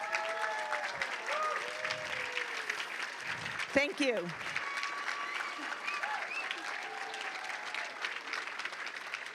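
Audience at a city employee recognition and pin ceremony applauding staff with five-year service pins, a sustained moderate clapping wash with a brief thanks spoken over it.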